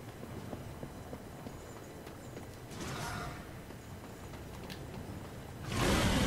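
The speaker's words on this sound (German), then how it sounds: "wir reiten jetzt mit Pferd" Horse riding in the video game Darksiders: rhythmic hoof clip-clop runs steadily throughout at moderate level, with a louder burst of noise near the end and no talking.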